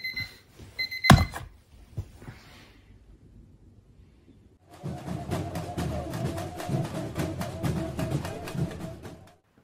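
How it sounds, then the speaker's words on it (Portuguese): A morning alarm clock rings with a dense, rapid metallic clatter that starts partway through and keeps going steadily. Thin tones and a sharp knock come before it, and the room is otherwise quiet. "O despertador toca às 8"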